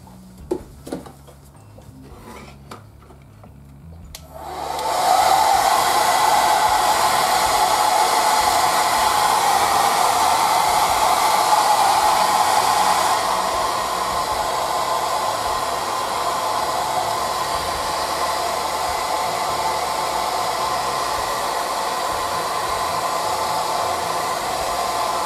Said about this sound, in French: comme je vais sortir le sèche-cheveux